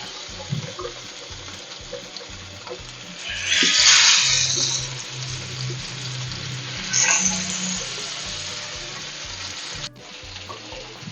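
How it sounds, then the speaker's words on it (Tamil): Fish sizzles in hot oil on a tawa for a homemade Tamil fish curry, a hissing spatter that flares sharply twice amid quieter background clatter, with faint crackling in between. "எண்ணெய் காஞ்சிச்சு. மீன் போட்டுக்கலாம்."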